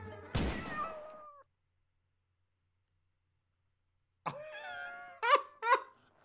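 Gary the pet snail from a SpongeBob video game meowing, one drawn-out meow, a silent gap, then a burst of several short meows close and clear.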